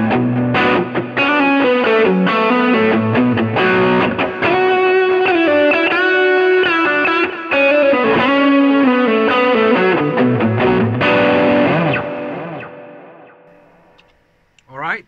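Electric guitar played through a pedalboard on a Texas-style overdrive snapshot gives a loud, driven, sustained run of chords and notes, modulated and continuous, that fades away near the end with a last short plucked flourish.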